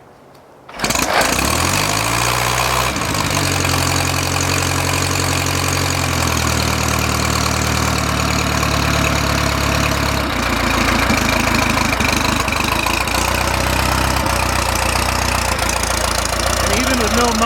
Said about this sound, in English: And even with no muffler, she's still pretty quiet.